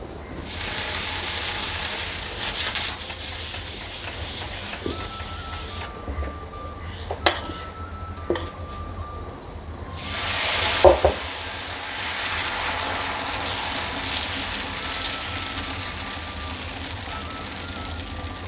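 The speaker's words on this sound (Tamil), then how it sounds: "தோசை ஊற்றி வச்சு இப்போ மேலே எண்ணெய் ஊற்றிக்கிறேன்" Sorghum dosa batter sizzling on a hot pan as oil is poured over it, a steady crackling hiss with scattered scrapes and clinks, moderately loud and close.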